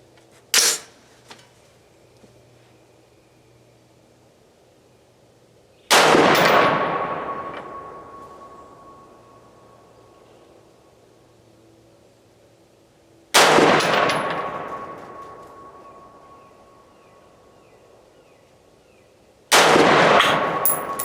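A budget BCA/PSA 223 Wylde rifle fires three loud, sharp shots several seconds apart outdoors, each followed by a long fading echo, with quieter handling clicks before the first.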